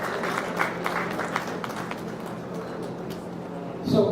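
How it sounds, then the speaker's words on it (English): Audience applause at a training and placement officers' conference, dense steady clapping from a crowd lasting several seconds, fairly distant and moderately loud, with a voice briefly starting at the end. "May I have huge round of applause for Mr. Krithivasan."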